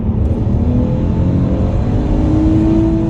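Project car engine with double Vanos revving around 3,000 to 4,000 RPM, a loud, rumbling drone whose pitch rises steadily as it pulls, heard close up.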